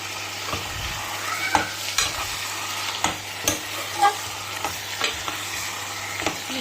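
Food being stirred and mixed in a sizzling pan, a spoon scraping and knocking against the cookware in repeated strokes over a continuous soft frying hiss, close by with no talking.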